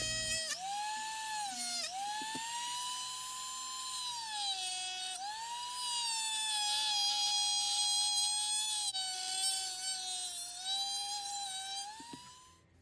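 A Dremel rotary tool cuts the tongue off a piece of bamboo tongue-and-groove flooring, its high whine wavering in pitch as the bit bites and eases, close and continuous before fading out at the end.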